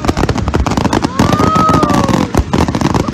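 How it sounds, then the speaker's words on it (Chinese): Fireworks show bursting high over the Xiluo Bridge in Yunlin, Taiwan: rapid, dense crackling and popping bursts in quick succession, loud and continuous, with a brief rising whistle in the middle. "烟花耀眼，轮番炸裂，令人目不暇接。"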